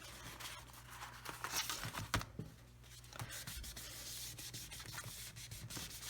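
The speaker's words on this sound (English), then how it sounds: "center this on my page and burnish it down" A paper piece is burnished down onto a scrapbook page, giving quiet, close rubbing and scraping strokes in short irregular bursts, faint and alone without talk.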